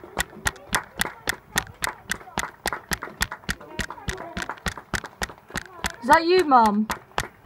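Evenly spaced sharp hand claps ring out nearby in a steady rhythm, one person clapping for the NHS while other people speak briefly over it near the end.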